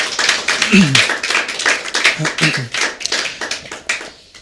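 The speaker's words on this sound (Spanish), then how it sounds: "Dale un fuerte aplauso a Jesús." Church congregation claps in uneven bursts, a brisk mix of individual hand claps and scattered applause, with voices speaking and calling out briefly between the claps.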